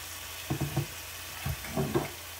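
Noodles stir-fried in a wok for a som tam-style fried rice noodle dish: soft sizzling under a few quick scraping, tossing strokes in short bursts, close and moderately quiet.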